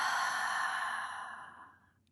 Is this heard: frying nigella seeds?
no